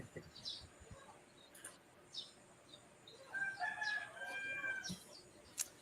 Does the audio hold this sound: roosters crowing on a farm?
yes